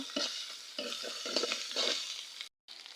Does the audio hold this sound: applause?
no